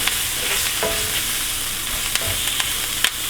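Onions fry in a pan with a steady, soft sizzle while a utensil scrapes and taps now and then as they are stirred, with no talk over the cooking.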